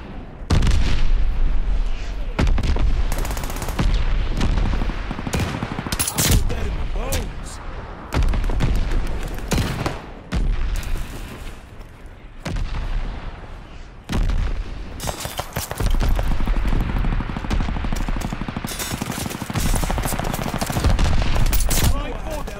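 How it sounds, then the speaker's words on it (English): Mortar shells firing in Call of Duty Vanguard, set among loud, near-continuous battle noise: heavy booms and rapid gunfire bursts with only brief dips, while voices talk over it. "Sending mortar shells!"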